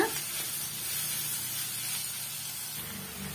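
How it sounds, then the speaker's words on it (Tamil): Steady hissing sizzle of grated carrot sautéing in a hot pan, continuous and fairly close, with no talking over it. "இதையுமே வந்து ஒன்றுலேருந்து ஒரு ரெண்டு நிமிஷம் வரைக்கும் நம்ம வதக்கி விட்டுக்கலாங்க"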